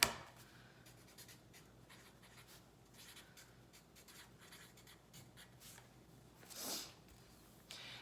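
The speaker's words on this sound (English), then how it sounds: "Now write your name right up there." Pen or pencil writing on paper during a children's worksheet lesson, a faint continuous scratchy scraping over quiet room tone, with a brief louder rustle near the end.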